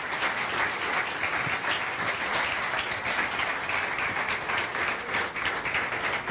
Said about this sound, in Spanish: démosle un aplauso al Señor por la vida del apóstol